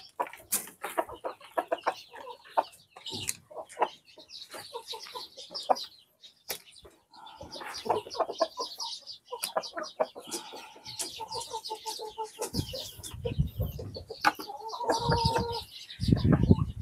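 Jersey Giant and Black Australorp chickens cluck and chatter at an early-morning feeding, a busy flock of overlapping calls close by with scattered sharp squawks and some rustling, no talk.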